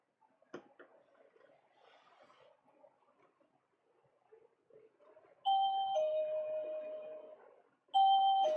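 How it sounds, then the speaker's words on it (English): After some faint shuffling, an electronic shop door chime rings twice, each a clear two-tone ding-dong, loud and close. "They're going up and down the stairs, which means they're constantly ringing the bell."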